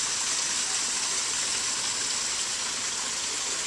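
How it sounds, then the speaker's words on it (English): A waterfall in Japan pours in a steady, dense rush of water, loud and unbroken from start to finish. "Beautiful waterfall."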